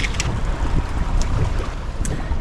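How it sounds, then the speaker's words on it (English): Wind gusting across open water around a fishing boat in choppy, wavy conditions, a loud rumbling buffet on the microphone with a few faint clicks on top and no voices. "It's definitely windier and wavier than the forecast said."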